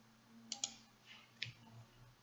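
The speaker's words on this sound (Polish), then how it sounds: "Klikam w wybranym wierszu" Computer mouse clicks in SAP Business One office software, three or four sharp, faint, close clicks, two in quick succession and then one more, with no talk over them.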